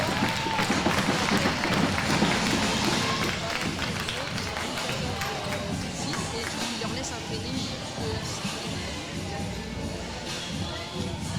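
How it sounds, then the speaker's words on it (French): Crowd applause at an NRF 2022 U14 qualification contest rises after a countdown and carries on steadily for several seconds, a dense wash of clapping mixed with crowd babble and a voice on the loudspeaker. "Applaudissements pour la troisième poule."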